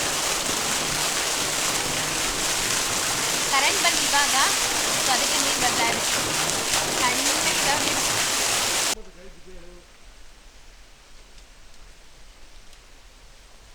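Water rushes steadily into a farm well, a loud, dense torrent lasting about nine seconds before it cuts off abruptly to a quiet background hiss.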